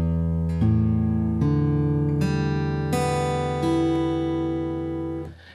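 Acoustic guitar strings plucked one at a time with relaxed fingertips, each note ringing out clearly and overlapping into a gentle, sustained arpeggio of about six notes, close and soft, with no talking.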